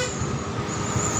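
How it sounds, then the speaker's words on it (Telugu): A bus coming up from behind on a hill road, its horn tooting steadily through continuous road and engine noise, fairly close and loud with no talk. "చూడండి మన వెనక బస్సు వస్తుంది"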